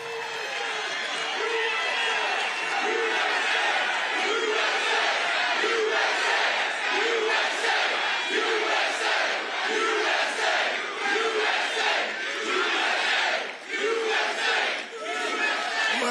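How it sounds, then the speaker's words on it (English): A large crowd at an evening political rally in the Poconos, Pennsylvania cheers and chants loudly, rhythmic massed voices swelling and pulsing steadily throughout. "Well, this is a nice crowd."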